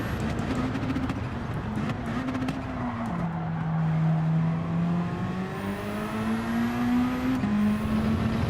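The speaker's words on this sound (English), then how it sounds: "160 miles an hour, smashed into first gear. That is called engine braking" A race car in Gran Turismo 7 roars at high speed, its engine note stepping down as it drops hard into first gear from about 160 mph and holds a steady, loud drone throughout.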